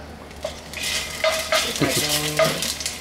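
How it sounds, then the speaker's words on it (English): Minced garlic and chopped onions sizzling as they saute in a hot pan for Pancit Canton, with a steady close fry, scraping utensil strokes and light clinks of cookware. "So the minced garlic and the chopped onions. So we want to saute."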